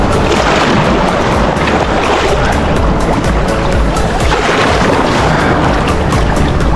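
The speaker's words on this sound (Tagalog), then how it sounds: "nag-aantay po kami ng isang malupit na alon" Ocean surf roars continuously at a beach in La Union, a dense wash of breaking waves mixed with wind buffeting the microphone, loud and close throughout.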